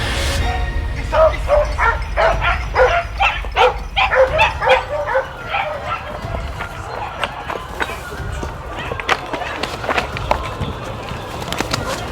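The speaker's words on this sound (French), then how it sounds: "Les petits chiens du collègue Greg ont commencé à donner" Small hunting dogs bay and yelp on the trail during a hunt, a burst of excited barking that is densest early on and then thins into scattered yips, with people talking in the background.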